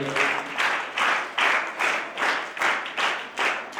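An audience at a school annual function claps together in a steady rhythm, with loud, evenly spaced bursts of applause about twice a second throughout.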